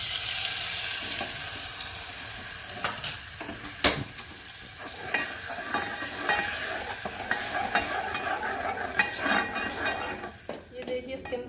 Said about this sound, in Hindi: देखिए इसके अंदर उबाल आ गई है